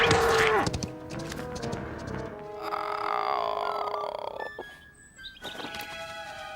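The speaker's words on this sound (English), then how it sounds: "Have you ever heard such a roar? Oh, some cow." A cartoon cow lets out a long, loud bellowing moo-roar that bends in pitch, followed by a shorter call and a brief squeak, set against animated background sound.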